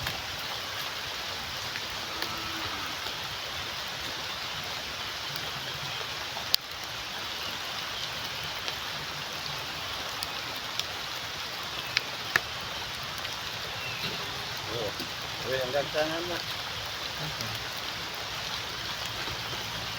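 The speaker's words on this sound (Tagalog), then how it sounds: "Wala guys, umuulan na" Steady rainfall patters continuously outdoors in a garden, a soft even hiss with occasional louder drips, while a person speaks briefly underneath.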